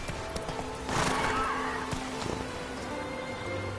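Roach, a horse in the video game Witcher 3, gallops with quick clip-clopping hooves and a brief whinny near the start, fairly close and moderately loud.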